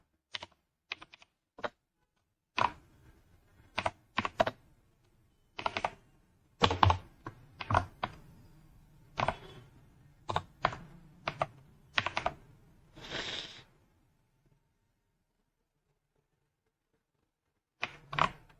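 Close computer keyboard typing while entering a salary sheet in Excel, heard as irregular bursts of crisp key taps and short runs of strokes, with pauses between them and a longer quiet gap before a final few taps.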